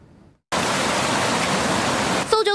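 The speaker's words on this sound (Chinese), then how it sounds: "在湍急溪水中惊险跋涉而过" Swift, turbulent creek water where rescuers wade during a search for missing girls, heard as a loud, steady broadband rush that cuts in abruptly, runs for about two seconds and stops, followed by a brief tonal sound.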